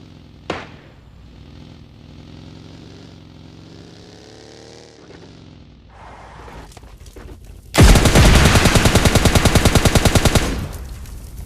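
Rapid automatic gunfire in PUBG Mobile Lite rattles in a loud close burst lasting a few seconds, after quieter game ambience and engine-like hum.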